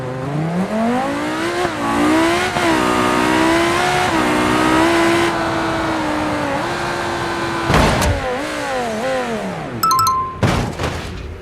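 A BMW drives in the BeamNG.drive game on a sky road course, its engine revving up and down through gears with a loud, continuous simulated roar and a couple of sharp impact noises near the end.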